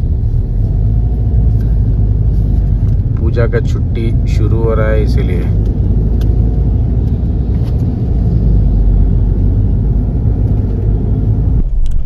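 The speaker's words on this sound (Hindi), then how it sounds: "आज बहुत ट्रैफिक है" Heavy highway traffic near Nelamangala rumbles steadily around a car on a Bengaluru road trip. Low engine drone and passing vehicles run throughout, with someone speaking over the noise.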